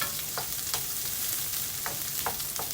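Garlic and onion frying in a pan for ginisang togue: a steady, dense sizzle with faint stirring scrapes at intervals, close and continuous with no talking.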